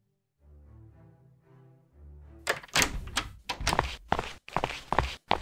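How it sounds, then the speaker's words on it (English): Door being unlocked and swung open in the horror game Metaphobia, heard as a series of close, sharp knocks and clunks after a quiet musical tone fades out. "I unlocked the door."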